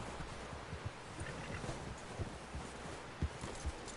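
Horse hooves clip-clopping in Red Dead Redemption 2, a quiet uneven series of soft thuds over faint wind-like background.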